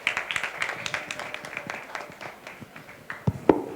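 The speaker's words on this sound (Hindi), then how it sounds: "कृपया पुनः तालियों से स्वागत करें" Applause at a Lions Club Bhopal eye camp closing and honours ceremony, a crowd's clapping in a steady patter that swells to a few louder claps near the end.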